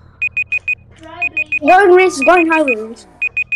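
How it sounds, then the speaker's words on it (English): Short, evenly spaced high electronic vehicle beeps in the video game Vehicle Legends repeat in bursts of four, pausing while a voice speaks briefly over them, then resuming. "But what is that sound? That beeping sound."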